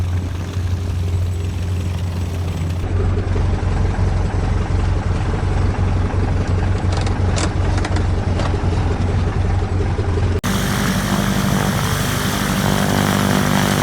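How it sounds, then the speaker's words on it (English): A de Havilland DH-87B Hornet Moth's piston engine runs up loud and close on the ground, a steady propeller drone with a brief change in pitch near the end as it settles back. "The run-up check is quite simple, not much more than the mag check"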